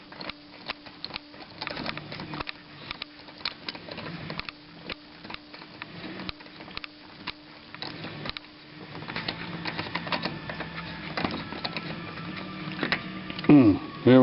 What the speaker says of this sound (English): I'll just take the socket in my hand and run them up like that.